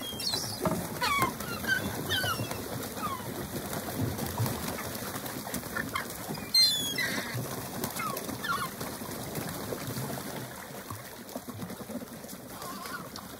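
Gulls call on a freezing winter day, scattered cries rising over a constant outdoor background hiss.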